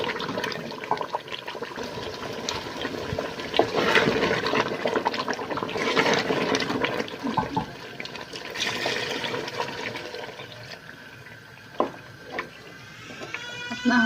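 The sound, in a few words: water poured into aloo matar curry in pan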